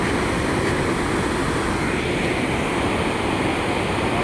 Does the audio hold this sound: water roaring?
yes